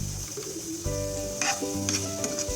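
Chopped onion drops into cabbage already frying in a pan for keema macaroni, bringing a steady close sizzle with brief stirring clatter and a faint birdlike coo in the background.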